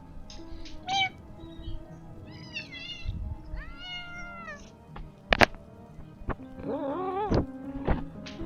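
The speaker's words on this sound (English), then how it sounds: "Hello, Grumpy Cat. Oh my gosh, I heard that" A cat meows repeatedly in a quiet room, several drawn-out rising and falling calls spaced over a few seconds, with a couple of sharp knocks and faint background murmur between them.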